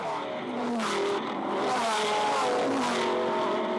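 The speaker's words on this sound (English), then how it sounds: "Love the different engine notes howling through the New Zealand air" GT race cars with six, eight, ten and twelve cylinder engines howl past during the Highlands 101 endurance race in New Zealand, a loud continuous roar with rising and falling pitch as several cars pass close by.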